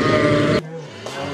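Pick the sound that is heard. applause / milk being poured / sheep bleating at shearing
sheep bleating at shearing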